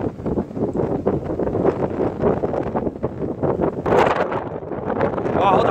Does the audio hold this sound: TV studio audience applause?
no